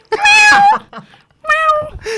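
A person gives two drawn-out imitation meows with a short pause between them, close and fairly loud, with a brief breathy sound in the gap.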